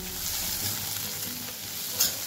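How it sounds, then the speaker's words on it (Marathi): Chopped coriander is stirred into an okra curry in a hot pan, giving a continuous close sizzle with soft scraping of the spoon and one sharper clink near the end, with no voices. "त्यानंतर टाकून घ्यायची कोथिंबीर, व्यवस्थित मिक्स करून घ्यायचं।"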